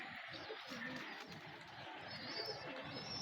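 A pair of white golden pigeons, with soft cooing audible close by under a steady hiss of background noise.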